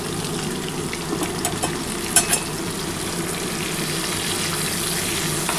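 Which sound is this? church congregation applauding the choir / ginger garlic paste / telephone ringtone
ginger garlic paste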